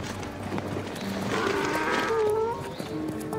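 Horse hooves clip-clop amid farm-animal sounds in a reconstruction of ancient Pompeii, with a busy, moderately loud background and a few tonal calls rising over the steady clatter.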